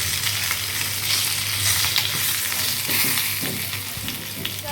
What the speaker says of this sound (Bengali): একটু ডিম আছে, ডিমটা ভেজে নিব তারপর।